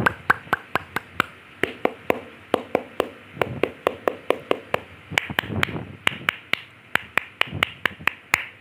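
A group performs the Pramuka scout clap in three rhythmic rounds: about thirty sharp, close hand claps in quick, regular bursts with short pauses between rounds, and no talking over them.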